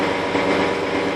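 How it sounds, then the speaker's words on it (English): Engine of a BD-2 Ribble recovery truck running steadily and fairly loud, a continuous broadband drone with no clear change in pitch over the short stretch and no voices. "As soon as you hear the engine tone start to rise, you'll know that here we go."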